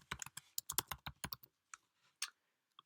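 Fast keystrokes tapped on a MacBook Pro keyboard while a drive name is entered, a quick burst of crisp clicks followed by a few sparse, isolated taps, close and clear with no talking.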